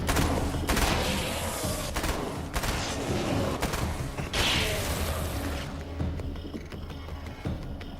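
Submachine gun fire in Alan Wake's American Nightmare, rapid sustained bursts rattling loud and close for several seconds with sharp breaks between volleys, then dying away into quieter ambient thuds and creaks.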